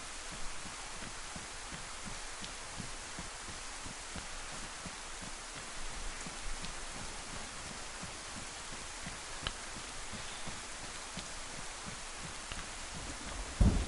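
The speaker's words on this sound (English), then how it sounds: "Let's see if we can get out of this rain" Steady rain in the video game DayZ, a soft continuous hiss with a faint low rhythmic thumping underneath, fairly quiet and with no voices.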